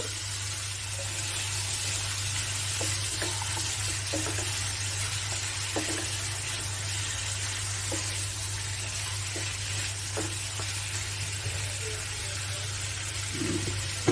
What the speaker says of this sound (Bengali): মশলার সাথে ভালো করে মিক্স করে নেব